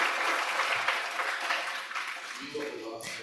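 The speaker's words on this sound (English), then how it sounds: "So give you a round of applause to our panelists" Conference audience applauding the panelists, a steady burst of clapping from the hall that fades out toward the end as a voice begins speaking.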